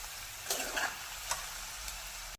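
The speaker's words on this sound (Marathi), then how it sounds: "आता पहा 2 मिनिटांनंतर पुन्हा व्यवस्थित एकदा मिक्स करून घ्या" Potato sabzi (aloo bhaji) is stirred in a pan, with a few scraping strokes of a spoon over a steady soft sizzle, close and fairly quiet.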